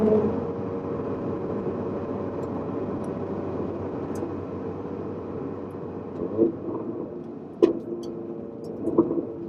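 A 2015 Mercedes-Benz GLA45 AMG engine idles with a steady low hum and rumble, close by, with a few faint clicks and light knocks over it.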